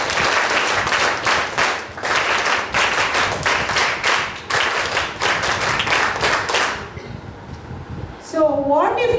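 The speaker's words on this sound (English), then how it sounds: "Give her a big round of applause." Audience applause for a participant's answer at a women-in-leadership session: dense, steady clapping for about seven seconds, then it thins out and a voice starts speaking near the end.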